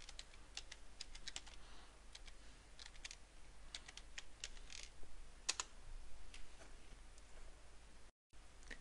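Quick, light keystrokes on a computer keyboard enter a title into HMI design software, a quiet, uneven run of close clicks and taps with a brief pause near the end.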